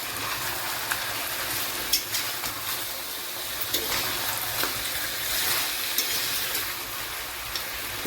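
Chicken frying in a pan with turmeric powder and salt for a Bihari chicken curry, a steady sizzle broken by repeated stirring knocks and scrapes, nearby and alone without speech.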